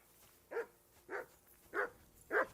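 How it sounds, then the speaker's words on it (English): A dog in the medieval role-playing game Kingdom Come Deliverance 2 gives four short, evenly spaced barks with a whimpering edge, about half a second apart, fairly close and clear over a quiet background. "Do something with that mutt, Henry. It's doing my head in"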